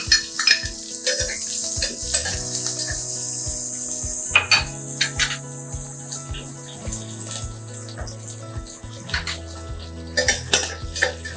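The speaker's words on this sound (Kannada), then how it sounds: "ಈ ಅರ್ಧ ಕಪ್ಪಷ್ಟು ಈರುಳ್ಳಿ ಒಗ್ಗರಣೆನಲ್ಲಿ ಈಗ ಬೇಯ್ತಾ ಇದ್ದ ಹಾಗೇನೆ" Half a cup of onion cooks in a mustard seed and curry leaf tempering, a steady sizzle broken by repeated scraping stirs and metallic clinks of a spoon against the pan, with no talking.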